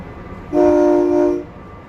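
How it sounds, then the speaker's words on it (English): A K3LA air horn on a SEPTA commuter train sounds one loud, clear chord blast of about a second, close by, over a low rolling rumble. "You'll hear a lot of this beautiful K3LA horn on this ride"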